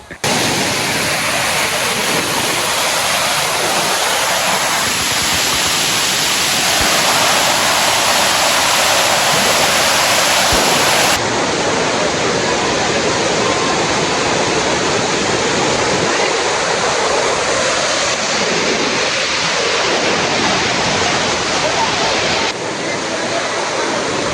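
Steady rushing water of a flowing stream fills the scene, loud and close, a continuous broadband roar with a faint voice now and then beneath it.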